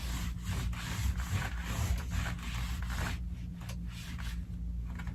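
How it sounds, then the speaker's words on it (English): Palms sweep over a quilt top to smooth it after basting spray, producing a series of close, soft fabric-rubbing strokes in an uneven rhythm. "And then smooth out my quilt top where I sprayed."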